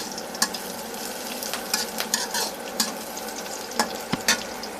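Onion and chili fry in a pan with a continuous soft sizzle, broken by several sharp scrapes and clinks of a spatula stirring against the metal, close up and without talk.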